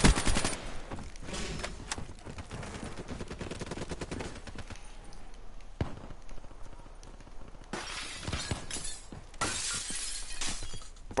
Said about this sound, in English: Broken glass everywhere.